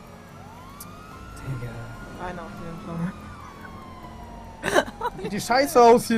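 A police car siren wails during a GTA 5 chase, a steady rising and falling tone running under the players' excited talk, with loud shouting near the end.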